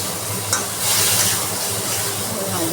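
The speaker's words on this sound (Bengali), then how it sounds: "ভালো করে মশলাটা দিয়ে কষিয়ে নেব।" A spice paste fries in oil while being stirred, making a loud, dense sizzle with a rush of hissing and scraping stir noises close up throughout, and no voices.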